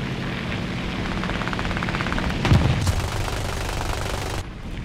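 In War Thunder ground battle, enemy machine-gun fire rattles in rapid bursts over steady engine rumble, with a heavier thump midway, fairly loud and without talk.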